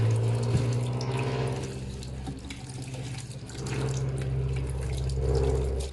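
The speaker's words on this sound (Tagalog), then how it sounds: "Hugasan na natin yung ating nakuhang talbos" Tap water runs steadily into a sink while sweet potato tops and okra are rinsed under it, a continuous close splashing flow with slight surges and a low pump-like hum beneath, no talking.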